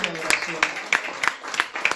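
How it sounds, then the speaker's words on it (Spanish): A church congregation claps together in a steady, even rhythm, with sharp, close claps about three per second over a murmuring background. "Le pueden dar un aplauso al Señor."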